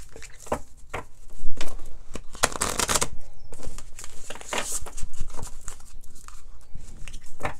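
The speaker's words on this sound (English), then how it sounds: "I love those cards. They are so cool to shuffle." Crisp riffling bursts of a deck of cards being shuffled, several quick rounds of papery flutters and taps, close up with no talking.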